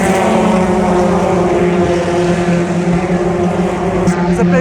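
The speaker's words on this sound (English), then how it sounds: "The touring cars are out right now." Touring cars race at Silverstone during a BTCC weekend, their engines a loud, steady mechanical roar that fills the whole stretch without letup, with a few brief higher bursts near the end.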